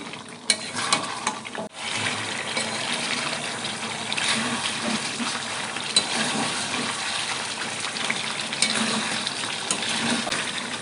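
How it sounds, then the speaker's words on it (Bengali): Fried potatoes sautéing in a Bengali-style broiler chicken curry, giving a steady, close sizzle with wet stirring and scraping throughout and a sharp clatter near the start. "ভেজে রাখা আলুগুলো দিয়ে দেব। আর কিছুক্ষণ কষিয়ে নেব ভালো করে।"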